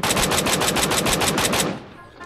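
Automatic weapon fire in the Metro Royale zombie mode of a shooter game, a rapid burst of about a dozen evenly spaced loud shots lasting under two seconds, then stopping abruptly.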